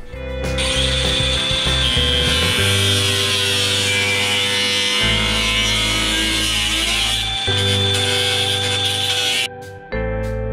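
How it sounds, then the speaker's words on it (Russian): Power tool grinding down weld spots on an Audi A4 B9 body panel, a loud, close, continuous high whine that dips briefly in pitch and stops near the end. "выравниваю места сварки"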